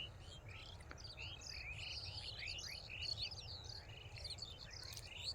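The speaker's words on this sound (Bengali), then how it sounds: "পাখিগুলোর কিচিরমিচির শব্দ" Small birds chirp and twitter in quick overlapping bursts across a rural mustard field at dusk, a busy chorus of high tweets above a low steady background rumble, with no talking.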